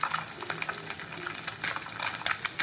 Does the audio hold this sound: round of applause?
no